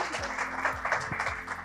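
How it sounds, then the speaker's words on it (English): An audience applauds at a book launch event at Stockton University, a brief burst of dense clapping heard close, with a voice speaking faintly underneath. "So let's give him a hand, some applause."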